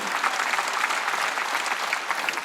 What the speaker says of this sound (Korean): 박수. 근데 왜 안 해?